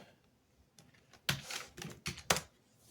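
Quiet bursts of computer keyboard typing, a few quick clusters of key presses with short pauses between them, close and crisp over a near-silent room.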